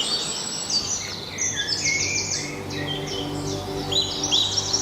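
A robin sings amid a busy chorus of other birds outdoors, its bright warbling phrases repeating steadily across the clip along with overlapping chirps, while a low steady hum sits underneath.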